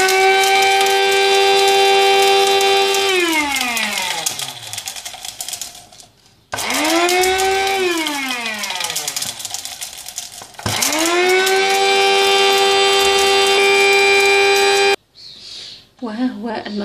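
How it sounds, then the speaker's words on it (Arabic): An electric grinder mills mint, cinnamon and thyme leaves in three loud, close bursts. The whine winds down after each run, with brief pauses between them. "ملعقة صغيرة من القرفة، وملعقة صغيرة من أوراق الزعتر، ثم نطحن الكل."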